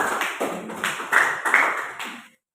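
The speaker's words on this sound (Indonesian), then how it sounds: "tepuk tangan dulu buat kelompok" A few students clap for a student group in a classroom, a short, light, uneven patter of hands in separate bursts that fades out after about two seconds.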